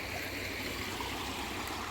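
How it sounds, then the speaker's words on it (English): Creek water in Seneca, South Carolina flows with a steady, close rush and a light babble that never changes. No one speaks. "So we are in a new creek today."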